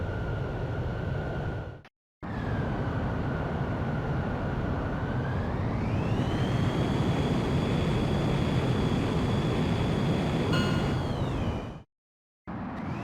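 A jet fighter in the Ace Combat X game powers up and rolls for takeoff, a steady loud engine roar with a rising whine partway through and brief cut-outs near the start and end.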